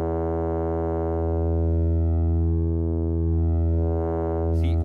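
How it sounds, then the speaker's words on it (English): A sine wave from the Surge synthesizer under FM modulation sustains a steady harmonic tone whose pitch content slowly sweeps and wobbles, ending with a brief burst of noisy distortion. "We're listening to a sine wave being modulated."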